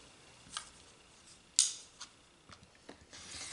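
Fabric being trimmed while squaring up a quilt block, a few faint, sharp snipping and clicking cuts spaced irregularly, close and quiet with no talking.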